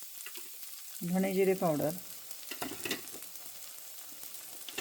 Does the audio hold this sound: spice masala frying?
yes